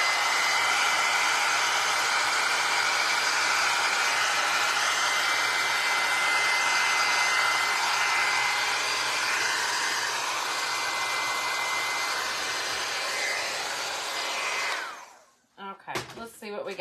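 A heat dryer blasts steadily over a decoupage tissue paper tag, a loud continuous whooshing roar lasting about fifteen seconds before cutting off abruptly, followed by a few brief handling clatters.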